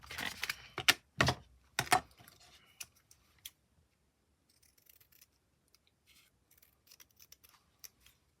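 Scissors snip through panel material in a run of sharp, close cuts near the start, then fainter intermittent clicks and rustles of handling trail off in a quiet room.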